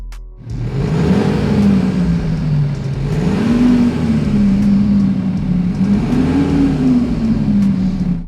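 A car engine with an IXSOUND active exhaust system hums steadily and rises and falls in pitch as it revs, a loud continuous drone close by.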